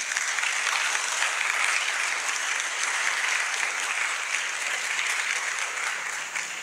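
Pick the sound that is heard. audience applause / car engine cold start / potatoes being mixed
audience applause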